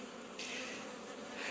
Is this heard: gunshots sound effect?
no